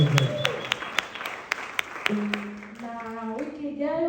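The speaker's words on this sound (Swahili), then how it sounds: "Na makofi yatosha, pige Yesu makofi na vigelegele." A church congregation claps in a quick run of sharp, separate slaps. Then high, trilling ululation rises over the clapping, and a voice can be heard underneath.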